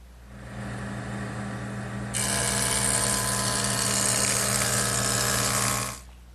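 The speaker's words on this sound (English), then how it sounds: "So I'm going to turn to my joiner to straighten those edges." A jointer runs at a steady hum, then a board is fed across the cutter for a few seconds, producing a loud, bright whine that stops abruptly, leaving the motor running.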